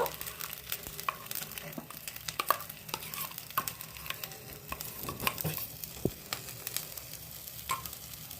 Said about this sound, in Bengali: এই পেস্টটাকে আদার সঙ্গে একভাবে নাড়তে থাকবো।